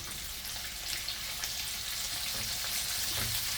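Fish frying in oil in a home kitchen, a steady broadband sizzle holding close and even throughout with a few soft clinks and splashes, no voices.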